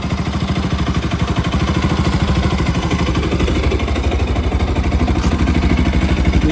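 A motorcycle engine idles close and loud, holding a steady, even putter throughout with no change in speed.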